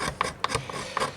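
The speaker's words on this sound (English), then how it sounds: "use the back of a knife or the blade itself to get some very, very fine kindling off it" A knife blade scraping fine kindling shavings off a stick of resinous fatwood, heard as a few close, dry rasping strokes in quick succession.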